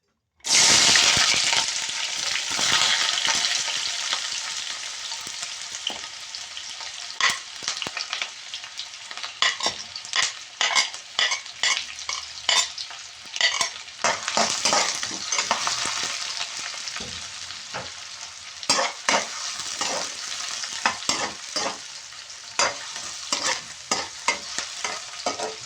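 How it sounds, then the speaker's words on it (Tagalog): Onion dropped into hot cooking oil bursts into a loud sizzle, then keeps frying with a steady hiss broken by frequent scraping and clinking of a utensil stirring in the pan, no one speaking. "So ngayon ilalagay ko na po yung ating onion."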